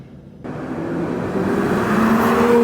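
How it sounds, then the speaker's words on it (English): BMW N55 engine starts up and revs in a short, steady rise, a close, smooth whirring drone that builds in loudness, with no talk. "I do love the sound of an N55."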